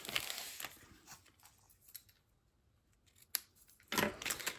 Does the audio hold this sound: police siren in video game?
no